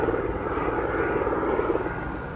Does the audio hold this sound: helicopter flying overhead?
yes